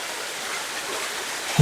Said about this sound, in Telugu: చూస్తున్నారా వాటర్ ఫాల్స్ ఎలా ఉందో